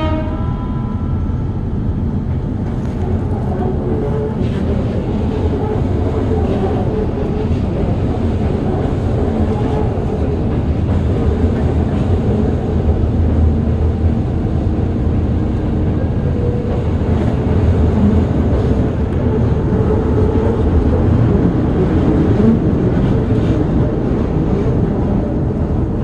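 A Keikyu Airport Line express train running from Haneda Airport's international terminal arrives at Shinagawa, heard from inside as a steady, loud rumble of wheels and motors that continues unbroken, with no voices.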